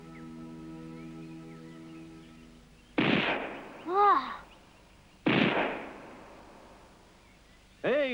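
Three sharp gunshots ring out outdoors, spaced a few seconds apart, each with a short echoing tail, after a sustained tonal hum fades away; a bird call sounds between the shots.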